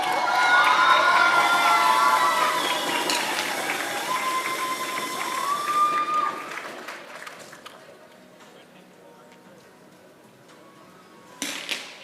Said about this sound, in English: The crowd is enjoying Samra finishing in the 3rd position.